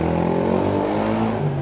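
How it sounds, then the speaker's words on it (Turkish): An electric city bus drives past on a Montmartre street in Paris, a steady, close rolling hum and road rumble that holds for under two seconds with no voices. "elektrikli bir otobüstür."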